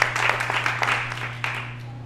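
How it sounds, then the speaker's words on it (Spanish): Brief applause from an audience at a cultural talk event, with scattered claps over a steady low hum and fading quickly. "Un aplauso para vos."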